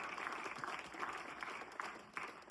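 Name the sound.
audience applause for a volunteer at a magic show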